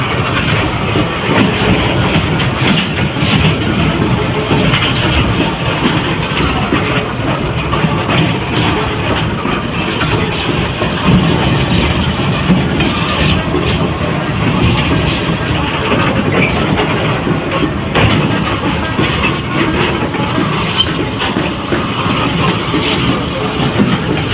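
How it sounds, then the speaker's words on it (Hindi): A Pakistan Railway train crawls slowly around a sharp, dangerous curve near Rohri, making a steady, loud rumble with heavy engine drone and faint wheel clatter that runs continuously throughout. "तो आप देख सकते हैं गाड़ी बिल्कुल ही स्लो चल रही है।"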